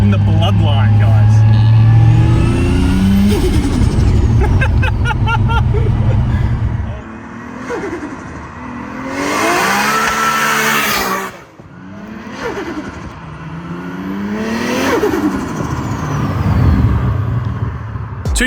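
A 30-year-old Nissan R32 Skyline with a built RB25 engine revs hard and loud, with several rising and falling sweeps, deep roaring bursts and pauses between them.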